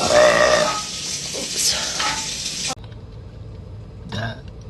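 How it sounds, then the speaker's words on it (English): A girl lets out a burp, a short guttural belch heard up close near the start, followed by quieter noises and a brief murmur. "It's not a very good burp."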